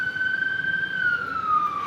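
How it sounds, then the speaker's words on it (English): A single siren wails in a long, steady tone that slowly drops in pitch, moderately loud and heard alone. "there goes the siren again."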